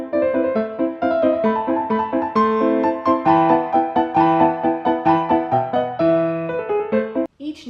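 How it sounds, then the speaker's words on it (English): Short, detached musical notes played staccato in a quick, bouncy rhythm, each tone clipped off crisply before the next begins, heard clearly with no voices. "Staccato is also a musical technique that involves playing a note or series of notes in a detached, crisp, and separated manner."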